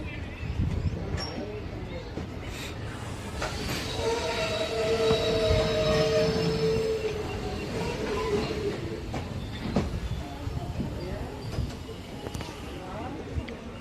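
The Nilgiri Express rolls along its rails on the Erode to Mettupalayam line, the rumble of wagons and a sustained wheel squeal steady throughout, heard up close from aboard.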